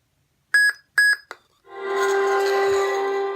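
A custom FX lightsaber gives two clear electronic beeps and a short blip while its sound font is changed, followed by a loud sustained humming tone as the new font powers up.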